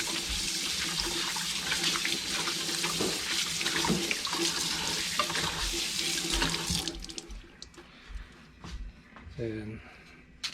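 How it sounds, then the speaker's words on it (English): Hands being washed under a running kitchen tap, a steady close hiss of flowing water for about seven seconds, then quieter splashes and dripping as the flow eases. "first of all I need to wash my hands."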